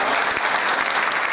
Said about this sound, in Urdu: تالیاں اگر بجانا ہے تو ذرا زوردار تالیاں